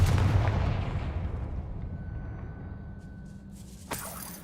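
The Confringo blasting spell in Hogwarts Legacy, heard as a single booming explosion at the start that decays over several seconds, followed by a small sharp pop near the end.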